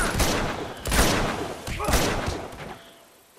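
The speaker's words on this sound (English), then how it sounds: "Wait, now you're shooting." Gunfire in Uncharted 2: Among Thieves, with repeated loud bursts of shots and a few heavy thuds spread across a few seconds, over a busy game background before a brief lull.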